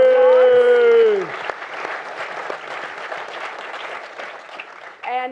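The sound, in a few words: applause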